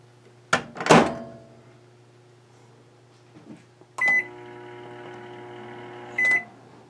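A microwave oven: a door thunks shut, then keypad beeps, a long steady hum while it heats, and a closing beep, all fairly close and clear with no talking.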